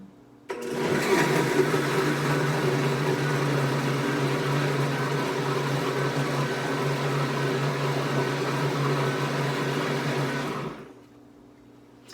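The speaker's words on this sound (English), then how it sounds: "We're going to turn on this blender and we're going to have a yummy pudding." A blender whirs loudly and steadily for about ten seconds as it mixes coconut milk with carob powder into pudding, starting abruptly and cutting off cleanly, with no talking.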